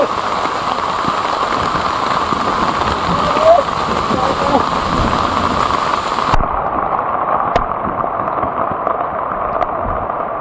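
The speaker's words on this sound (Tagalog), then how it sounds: "napakalakas ng ulan" Heavy rain pours down in a steady, dense hiss that continues for the whole stretch, loud and close, with a few sharp pops and drips standing out.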